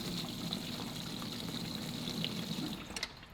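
Fuel gushing from a pair of pumps into a 2-gallon container, a steady rushing pour of liquid that runs unbroken and then ends with a few faint knocks.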